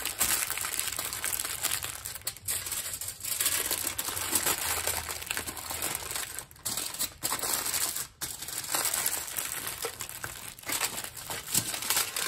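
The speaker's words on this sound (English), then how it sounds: "And then I'm gonna take fold this first section up." Aluminium foil being folded and crinkled into a campfire foil packet for a hobo dinner: continuous close crackling and crumpling with occasional sharper creases, no talking.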